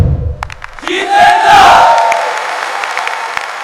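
A studio audience greets three guests arriving on a quiz-show stage with a loud burst of crowd cheering and whoops. It swells quickly, then fades into a lingering roomy murmur.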